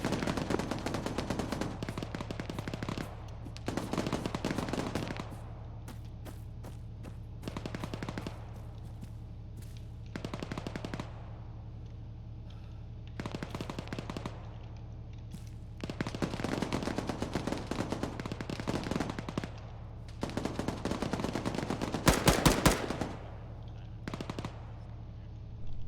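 Machine gun fire in the military game Arma 3: repeated loud bursts of automatic gunfire, each a second or two long, separated by short pauses across the clip, with a voice occasionally calling out between them.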